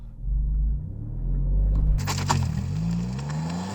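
An Alfa Romeo Giulia GTAm on Michelin Pilot Sport Cup 2 tyres launches hard, a deep steady engine rumble swelling into a louder, rougher roar with scrabbling texture as the tyres fight for grip.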